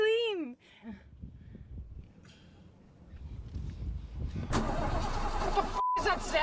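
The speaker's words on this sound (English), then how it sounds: "What is that sound? Is that your engine?" A car engine turns over and settles into a low, steady running rumble that grows fuller over several seconds, with no talking.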